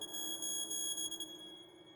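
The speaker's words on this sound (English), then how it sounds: "There's like a beeping sound" Steady electronic beeping from a spaceship console, a sustained high tone with bright harmonics ringing continuously over a soft low hum, close and clear with no talking.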